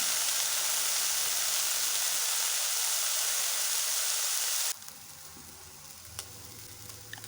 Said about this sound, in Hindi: डालेंगे 1 कप बॉयल मटर जो हमने रखे हुए थे। इसको थोड़ी देर भूनेंगे।